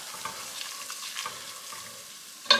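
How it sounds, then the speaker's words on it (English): Flour being stirred into melted butter in a pan to form a paste for a copycat Panera broccoli soup: a soft steady sizzle with faint scraping strokes of the spoon, quiet and close, ending on a brief clink. "you're going to add your 1/4 of a cup of flour. And you're going to mix it up until it's a paste"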